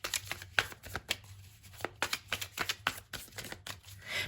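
Tarot cards being shuffled by hand, a rapid run of crisp riffling flicks and soft slaps in irregular bursts, close and moderately loud with no talking.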